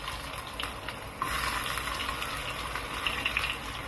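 Onions dropped into hot oil for a vegetable stew, giving a steady close sizzle that jumps louder as they hit the pan and then hisses on continuously, with no talking.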